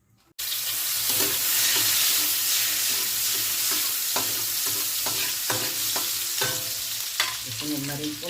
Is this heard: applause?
no